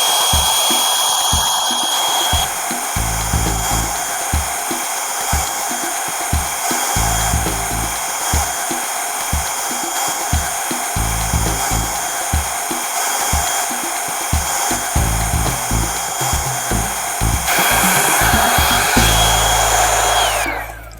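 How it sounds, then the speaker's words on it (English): A hairdryer blows steadily and loudly for the full duration, a constant whooshing roar with faint clicks and shifts in tone. "So now the trusty hairdryer comes back in."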